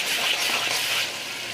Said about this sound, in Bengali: রসুন বাটা দিয়ে আরেকটু ভেজে নেব।